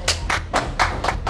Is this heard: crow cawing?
no